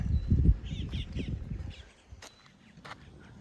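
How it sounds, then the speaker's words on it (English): Birds call at a Florida state park nature area, a few harsh cawing notes over a low outdoor rumble, followed by sharp chirps after it quiets. "Birds."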